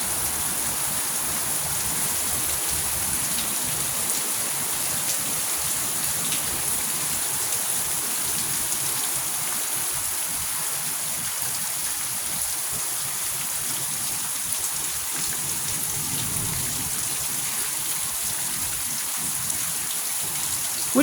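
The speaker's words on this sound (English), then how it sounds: "Some big raindrops." Heavy rain with big raindrops falling and spattering on surfaces outdoors during a storm, a steady dense hiss that stays even and unbroken throughout, with no voices.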